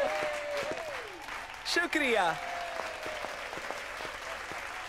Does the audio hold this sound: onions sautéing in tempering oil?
no